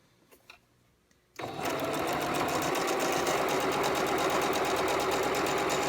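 Quiet handling noises give way to a sewing machine stitching a quarter-inch quilt seam, starting abruptly and running in a fast, even, close-up whir with steady needle rhythm.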